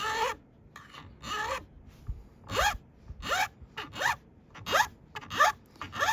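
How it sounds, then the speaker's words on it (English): A metal file rasps through a guitar fret slot during a re-fret, with about eight slow, deliberate strokes repeating roughly every half second to a second, close and fairly loud with short pauses between. "I'm pushing the file through the fret."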